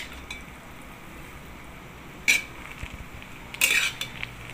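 Dum biryani is mixed in a pot, with a spoon giving a couple of bright metallic clinks and scrapes against the pot over a low, quiet background.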